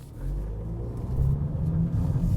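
A 2024 Volkswagen Polo GTI pulling away from a standstill, its engine rumbling low and building slightly as the car accelerates, close and without talk.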